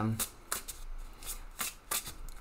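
A deck of tarot cards riffled and shuffled in several quick bursts, fairly close, with brief pauses and soft handling sounds between them.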